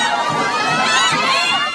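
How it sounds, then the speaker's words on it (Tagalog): A dense crowd of tourists shouts and cheers loudly and continuously at a grand float parade during the Panagbenga festival, with high excited voices filling the scene. "Hiyawan ang mga tao na makita ang kanilang mga idolo."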